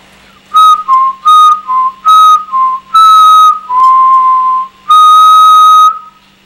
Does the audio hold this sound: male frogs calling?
no